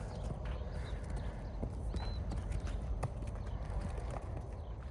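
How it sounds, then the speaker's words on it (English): Horses move about on a farm, their hooves clip-clopping in a faint, uneven rhythm with a few sharper knocks against a low, constant background hum. "these horses are excited too"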